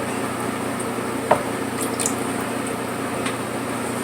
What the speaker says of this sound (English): I'm just gonna take my damp brush and lather it off the puck.